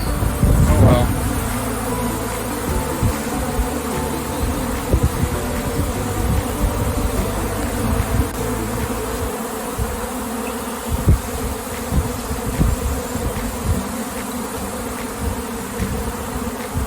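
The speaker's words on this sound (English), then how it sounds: "How do so many bees even fit in the hive?" A honey bee swarm gives off a dense, continuous buzzing, steady and fairly loud, made of countless overlapping wingbeats with no pauses.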